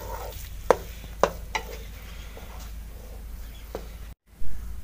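Grainy semolina halwa is scooped out of a village-style cooking pan: a few faint scrapes and sharp utensil clicks against the pan over a low background rumble, ending in a brief dull thump.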